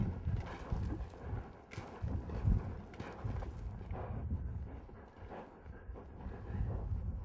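Hooves clop in a steady, quick back-and-forth rhythm as a horse is trained on a mechanical cow in a pen, close and earthy with light wind noise behind and no voices.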